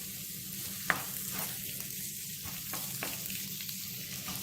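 Quinoa being stirred into roasted vegetables in a butternut squash dish: a low, steady hiss with light scraping and one sharp tap early on, no voices.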